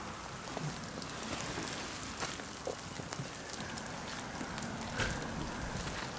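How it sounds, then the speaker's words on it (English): Rain falls steadily, a soft constant patter with scattered nearby drips and taps, fairly quiet with no talking. "now it's raining and there's plenty of water at the moment"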